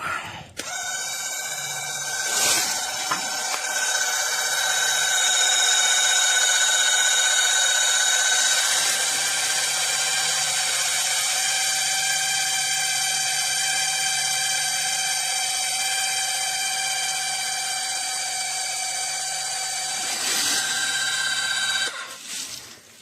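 A BENYAN 5-ton 12V electric floor jack lifting a vehicle by its axle: a steady, loud, high-pitched motor whine that runs continuously for about twenty seconds, starting and stopping cleanly, close up with no talking.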